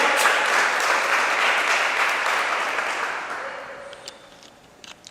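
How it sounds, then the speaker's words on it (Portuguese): A church congregation applauds loudly and steadily during a Portuguese-language service, the dense clapping slowly thinning and fading toward the end as a lone voice calls out. "Você pode aplaudir a Jesus Cristo e dar a Ele toda a honra e toda a glória."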